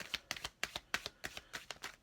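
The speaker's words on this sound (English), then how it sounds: "for today we'll show you the shuffling action" Close, quiet riffling of tarot cards being shuffled by hand, a quick run of sharp papery slaps and flutters in an uneven, steady rhythm with no voices.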